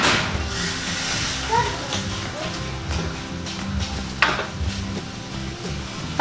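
Pork hock for humba stirred with vinegar, soy sauce and sugar in a pot, soft scraping and sizzling with a few utensil knocks against the pan.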